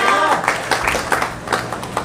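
A crowd at a religious gathering applauds new mothers, a burst of scattered hand claps at close range mixed with voices and chatter.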